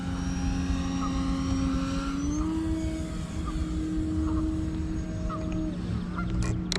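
A Turbo Timber Evolution RC airplane on floats flies knife-edge passes. Its electric motor gives a steady, continuous whine whose pitch rises and falls as it passes, with no talk.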